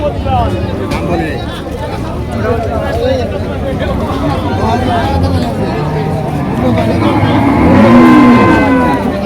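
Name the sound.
cattle at a cattle market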